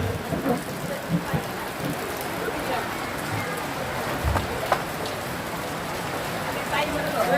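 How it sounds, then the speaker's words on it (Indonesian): Heavy rain pours steadily at an outdoor Rambu Solo' funeral ceremony in Tagari, Balusu, a continuous dense hiss with occasional heavier drops and a faint low rumble, as people talk nearby. "Hujan semakin deras."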